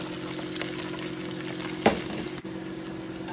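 Onions and butter hit a little leftover oil in a pot and fry, giving a steady, close sizzle with light stirring and one sharp clatter midway through, with no voices.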